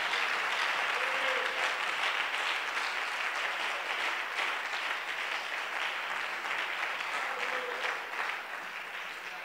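A church congregation applauds in acclaim of the Lord, steady dense clapping that goes on throughout and tapers off slightly toward the end.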